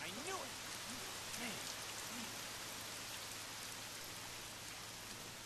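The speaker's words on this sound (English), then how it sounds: "Oh, great. It's raining." Steady rain falls in the video game Lost Odyssey, a constant wash of fine patter with a few soft tonal blips near the start, moderately loud and even throughout with no talking.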